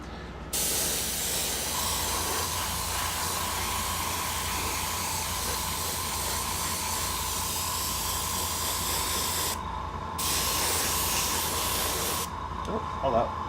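An airbrush sprays paint onto a Lamenters Thunderhawk model, producing a close, steady hiss that runs for long stretches with brief pauses between bursts.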